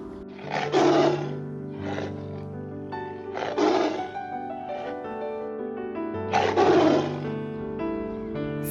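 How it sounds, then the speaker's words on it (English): A tiger roars and growls in several deep, rasping swells, close and loud, with rumbling pauses between the bursts. "Tiger."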